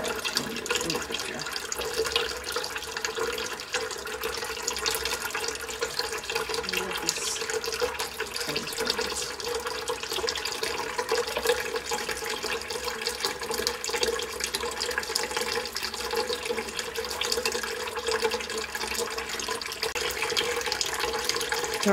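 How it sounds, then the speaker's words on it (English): Tap water pours steadily into a sink to rinse a cyanotype print, a continuous even splashing flow that stays unbroken throughout. "So our prints have been rinsing for a couple of minutes now"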